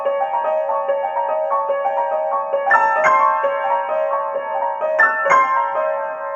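Solo piano playing Ravel's Oiseaux Tristes, a steady repeated melodic figure overlaid with two brief high bright bird-call flourishes, sounding close and clear with no talking.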